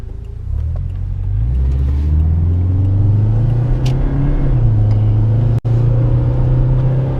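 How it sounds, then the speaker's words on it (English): Turbocharged Subaru engine pulls at half throttle, a steady loud rising drone with gear-change dips and one sharp break near the end, running alone without speech. "so I'm going to go about half throttle here."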